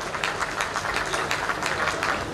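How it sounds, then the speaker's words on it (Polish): A crowd at a quad speedway training exhibition in Częstochowa applauds as a rider is introduced, with dense, steady clapping throughout the short stretch and a faint voice underneath. "Wielkie, wielkie brawa."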